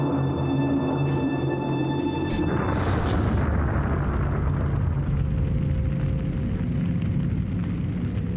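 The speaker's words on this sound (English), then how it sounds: "Two smash through the armored decks of the Roma and explode inside" German guided bombs dropped by Dornier bombers smash through the armored decks of the Italian battleship Roma and explode inside, a loud, sustained rumbling blast with a deep roar that lingers and slowly fades.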